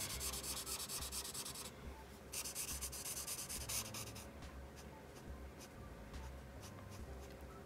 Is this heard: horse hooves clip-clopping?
no